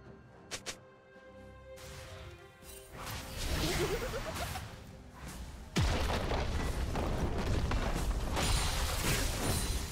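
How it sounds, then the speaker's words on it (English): Turret destruction in the League of Legends video game: whooshing effects build into a heavy booming crash, followed by a dense, continuous rumble of game effects. "Red team's turret has been destroyed."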